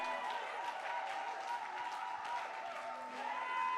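A church congregation applauds, a sustained wash of clapping from many hands filling the room at moderate loudness, with a faint steady tone and murmuring underneath.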